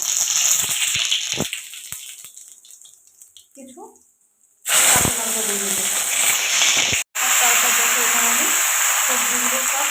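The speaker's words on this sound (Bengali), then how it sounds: "তেল গরম হয়ে গেছে আমি এখানে জিরেগুলো দিয়ে দিলাম" Cumin seeds tempering in hot oil for an Ekadashi pumpkin and potato curry, a loud steady sizzle that bursts in suddenly after a quiet stretch and continues to the end, briefly cut off once.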